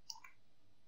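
Two quick, faint computer mouse clicks during 3D modelling work in Maya 2017, the first slightly sharper, heard alone against a quiet background.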